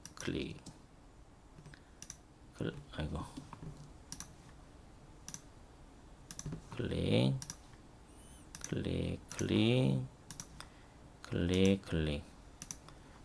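Mouse clicks while drawing circles in CAD software, a scatter of short, faint taps sitting under and between stretches of a man explaining the steps.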